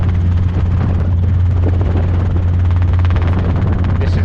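A Robinson R22 helicopter in flight gives a loud, constant cabin drone with a steady low rotor throb, unbroken and close throughout.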